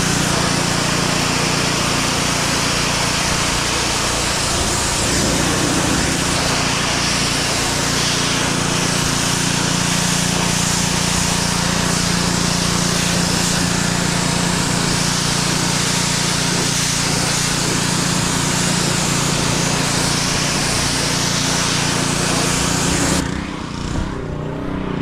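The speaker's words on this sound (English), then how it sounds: "let's grab the pressure washer" A pressure washer blasts dirt off an old Binder with a steady, loud hiss and motor drone that runs unbroken for about twenty-three seconds before cutting off abruptly near the end.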